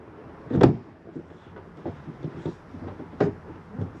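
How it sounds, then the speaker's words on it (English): The generator compartment door on a 2024 Jayco Melbourne Prestige 24LP motorhome, housing a Cummins Onan generator, shuts with a close, solid thud, followed by light rattles and a second firm knock about two and a half seconds later. "Make sure you have this door back on and secure for travel."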